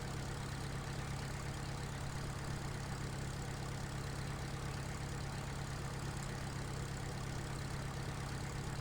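Older small farm tractor engine idling in Farming Simulator 2013, a steady low rumbling drone that holds unchanged and fairly quiet from start to finish.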